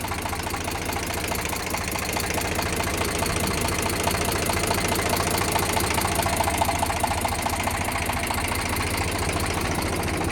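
An Eicher 368 tractor engine runs steadily at idle, a close, continuous diesel chug with a rapid knocking rhythm and no voices.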